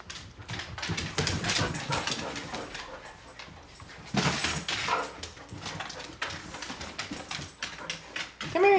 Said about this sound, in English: Weird little dog.